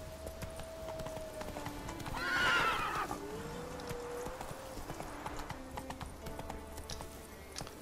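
Roach, a horse in The Witcher 3 crossing Skellige, keeps up a steady clip-clop of hooves with a loud whinny rising midway, all over a low ambient game backdrop.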